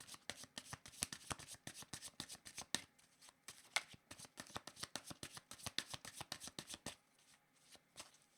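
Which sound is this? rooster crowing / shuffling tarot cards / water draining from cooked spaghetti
shuffling tarot cards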